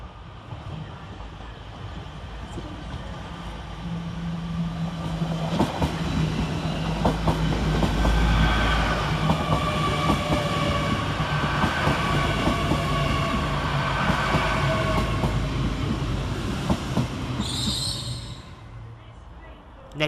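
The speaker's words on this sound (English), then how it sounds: "Next up for Transpennine Express is 802219, working the 12:59 Transpennine Express service from Manchester Airport to Edinburgh Waverley." Transpennine Express train 802219 rolls through Preston station, with a rising rumble, rhythmic wheel clatter and a sustained low hum building over several seconds, then brief high brake squeals near the end as it slows, heard close by.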